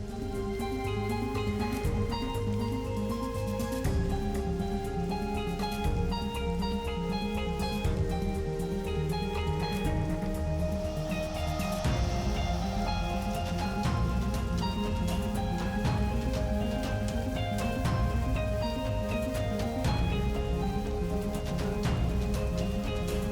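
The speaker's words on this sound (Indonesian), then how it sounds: "hujan yang sedari pagi mengguyur area Curug Cipurut ini" Steady, dense rain pours without pause over the Curug Cipurut waterfall area in Wanayasa, a constant hiss filling the whole scene at even loudness with no talking.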